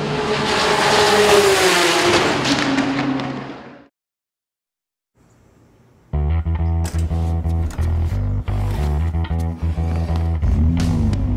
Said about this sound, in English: engine's sounding great now